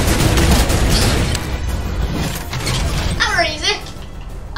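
A turret firing in the video game Fortnite, a burst of loud booming shots at the start fading into rumbling game noise, with a short whooshing sweep near the end and no clear talking.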